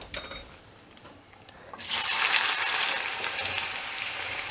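Potato pieces drop into a pan of hot oil seasoned with turmeric, sugar and salt, setting off a sudden loud hissing sizzle partway through that continues steadily up close, with no voices.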